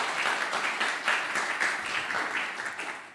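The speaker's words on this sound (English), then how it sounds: "let's give a big round of applause to all our startups who are celebrating today." A large audience applauds at a health tech startup accelerator pitch event, with dense sustained clapping that holds steady throughout, swelling slightly in places, and no talking over it.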